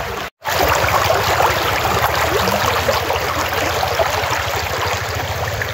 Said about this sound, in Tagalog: Naririnig yung tunog ng ilog.